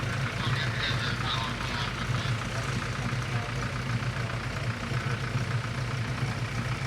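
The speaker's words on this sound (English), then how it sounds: "I think that's the ice cream truck rattling" At an outdoor car show, an ice cream truck's engine idles with a continuous rattling rumble, steady and fairly loud, while voices murmur faintly in the background.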